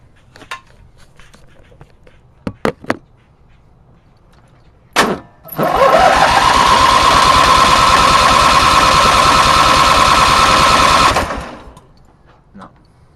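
A racer's new engine is started with the choke partly open. A few sharp clicks and a short burst come first, then the small engine catches and runs at a loud, steady, buzzing high idle for about six seconds before cutting out.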